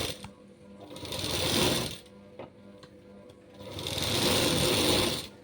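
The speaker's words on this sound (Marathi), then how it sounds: "कपडा अगदी हाताने व्यवस्थित करायचा आहे आणि मग ही शिलाई देऊन घ्यायची आहे." A sewing machine stitching fabric for a designer jacket, two close bursts of rapid mechanical whirring and ticking separated by a pause with small clicks.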